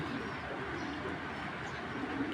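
Giribaz Pakistani pigeons coo softly in low, repeated murmurs over a quiet background hum.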